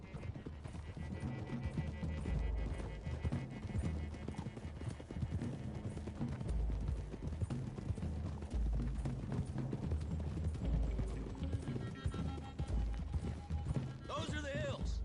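Horse hooves clip-clop steadily in a PS4 western video game as riders travel along a road toward hills, a continuous galloping rhythm under music and game dialogue.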